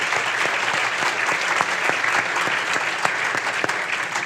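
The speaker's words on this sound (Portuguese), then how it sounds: "Esse aplauso é para as mulheres" An audience at a cultural talk show applauds for women, producing a dense, continuous clapping of many hands that holds steady and fairly loud, with no speech over it.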